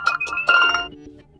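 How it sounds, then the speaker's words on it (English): A melodic phone alarm ringtone plays a short run of bright synthetic notes up close, loud and alone, fading out at the end. "select new alarm sound from the list"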